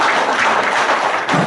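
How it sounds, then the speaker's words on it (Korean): An audience at a Korean clan association gathering claps in encouragement, a short burst of dense, fairly loud applause from a room of people. "여러분 좀 격려 박수 좀 해주시고."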